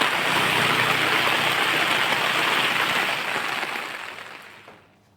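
Heavy rain pours down in Tirukkovilur, a dense, steady hiss that holds loudly for several seconds and then fades away to near silence.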